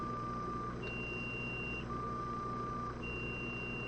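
A steady P25 radio tone sequence, two long pure beeps at different pitches alternating over a constant hiss of radio static.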